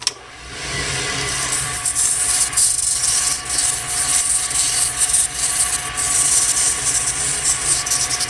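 Continuous close-up rubbing and abrasive scratching of micro mesh sanding up to 2400 grit against a spinning deer antler pen, over a steady motor hum, with brief pauses in pressure.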